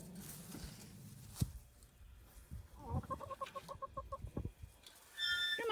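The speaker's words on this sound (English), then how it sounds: "There's our chickens." Backyard chickens cluck close by in a quick run of short, rhythmic calls, with scattered soft bumps and rustles before them and a brief higher squawk at the end.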